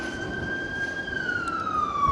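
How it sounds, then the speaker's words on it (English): An ambulance siren in Blackpool, a single sustained tone gliding slowly downward, heard at moderate distance over a steady background rumble of traffic or tram, with no talk. "Probably just an ambulance."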